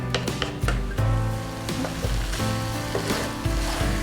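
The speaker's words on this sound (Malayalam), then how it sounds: "നമുക്കിനി നന്നായിട്ട് മീഡിയം ഫ്ലെയിമിലിട്ട് ഇതൊരു ഫ്രൈ പരുവത്തിലാക്കി എടുക്കണം" Mutton pieces fry over a medium flame for bhuna mutton fry, giving a steady close sizzle with scattered clinks and stirring sounds throughout.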